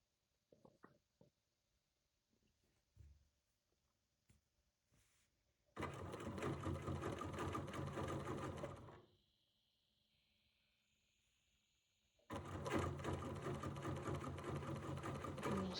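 A sewing machine stitches couching fibers onto fabric in two sustained loud bursts of fast whirring, separated by a quiet pause with faint handling clicks and a soft hum.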